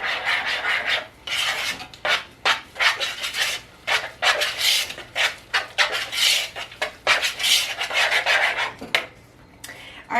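Corn fritter batter being mixed by hand with flour, salt and pepper, a close, rough scraping and rasping of a utensil against a bowl in irregular strokes, with brief pauses between bursts.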